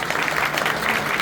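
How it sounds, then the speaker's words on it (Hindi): Audience clapping at a Hindu saints' ceremony where a guest is garlanded and welcomed, a steady dense wash of applause at moderate level throughout, no voices on top. "एक बार ताली तो बजा दो जोरदार तुमसे।"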